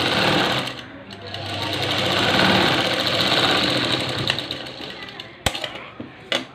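Tailor's sewing machine running a pressed stitch along a 1.5-inch fabric strip at a prince-cut joint, whirring steadily close by, then easing off with a few sharp clicks near the end.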